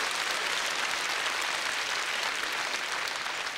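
Studio audience applause on a Russian TV quiz show, a dense, even wash of many hands clapping that holds steady and fairly loud for several seconds with no voices over it.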